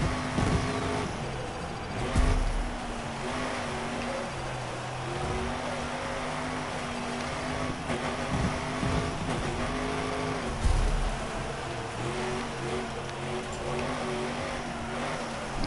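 A race car engine in the off-road racing video game Gravel drones and revs continuously, pitch rising and falling with throttle changes and a couple of brief louder bursts.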